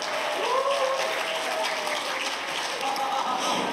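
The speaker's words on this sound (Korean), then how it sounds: "박수로 한번 환영해 주세요" A church congregation at a Sunday service applauds to welcome a priest carrying a trumpet, a steady wash of clapping at moderate distance with faint voices and cheers mixed in.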